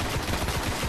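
Gunfire in the Destiny shooter game: loud, dense shots over under a second, with several low thumping reports in quick succession.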